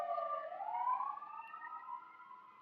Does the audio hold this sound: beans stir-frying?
no